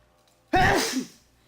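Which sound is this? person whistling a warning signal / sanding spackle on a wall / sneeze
sneeze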